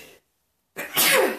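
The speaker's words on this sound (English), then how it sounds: "I feel this sneeze coming on, so I'm going to apologize now when I go to sneeze." A single sharp sneeze bursts out loudly and close after a short silence, with a faint breathy lead-in before it.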